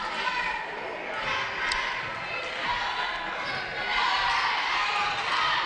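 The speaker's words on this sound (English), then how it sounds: "The fans here from Dade County protesting a bit, as you probably can hear on the crowd mic." Dade County fans at a girls' high school basketball semifinal make a restless crowd noise with shouts and murmurs, heard at moderate distance beneath a commentator's voice, with sneaker and ball thumps from the court.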